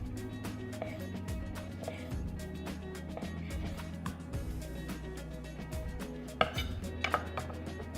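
A kitchen knife slices orange halves for serving, giving soft repeated cuts and light taps on a board, with a few sharper knocks near the end under quiet background noise.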